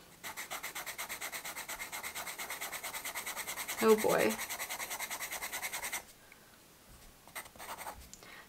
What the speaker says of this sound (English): Let's go ahead and start with the B pencil for the charcoal.